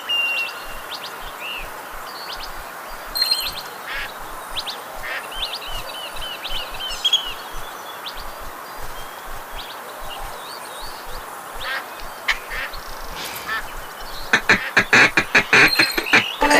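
Ducks quack and chatter over steady outdoor ambience in the Duck Dynasty hunting game, scattered calls at first, then a dense burst of rapid quacking from a flock near the end.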